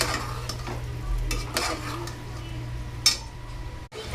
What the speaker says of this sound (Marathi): वांगे बटाटे थोडे मसाल्यामध्ये फ्राय करून घेते